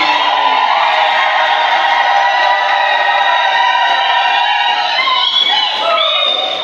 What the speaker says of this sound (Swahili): Vigelegele vya furaha.